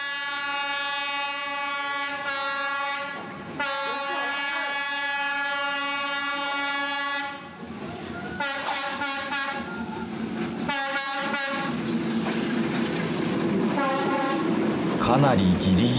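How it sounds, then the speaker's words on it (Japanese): A train sounds its horn with sustained tones, then rumbles past very close between buildings on a street in Hanoi, Vietnam, with rhythmic clattering wheels growing louder toward the end; voices are faintly present. "列車がやってくる。"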